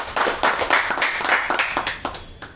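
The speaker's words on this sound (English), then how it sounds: "Big clap for the sir." A small audience at a homeopathy lecture claps for the speaker with a handful of distinct, rhythmic claps close by, loosely spaced rather than a dense ovation.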